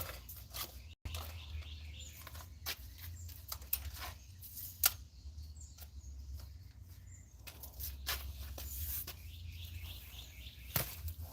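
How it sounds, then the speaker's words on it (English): Faint birds chirp in scattered short calls across a quiet outdoor background, with occasional soft clicks and shuffles nearby. "Listen to the birds."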